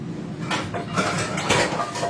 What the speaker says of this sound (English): let's find what skillet I want to use